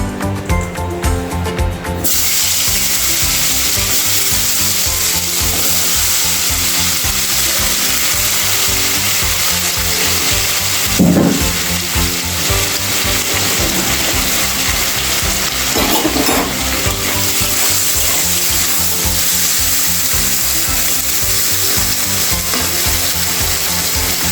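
Potato pieces frying in oil in a pan for a restaurant-style paneer curry give a steady, close sizzle that runs throughout, partly under background music.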